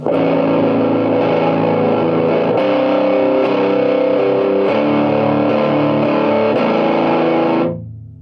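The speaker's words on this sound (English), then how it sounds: "that's really the height of the distortion you're going to get" A crunchy, distorted electric guitar chord through a Traynor Darkhorse amp on its crunch setting rings out loud and sustained for several seconds, then is cut off abruptly.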